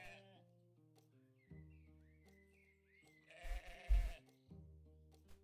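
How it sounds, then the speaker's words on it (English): Sheep and goats in the farming video game Orrstead bleat a couple of times over a soft, tonal game music bed; moderately faint, with no talking. "Love the sound of sheeps. Sheeps and goats."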